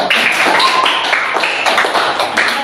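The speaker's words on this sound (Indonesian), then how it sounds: "kita kasih tepuk tangan untuk kelompok 1." A classroom of students claps for the first group after its presentation, giving a short burst of quick, close, loud hand claps that sound a little uneven.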